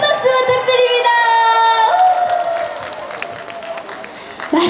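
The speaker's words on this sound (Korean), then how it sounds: "여러분 큰 박수 부탁드립니다." An outdoor crowd at a garlic and Korean beef song festival claps and cheers, with a sustained tonal sound over the start before the clapping thins out and a fresh burst arrives at the very end.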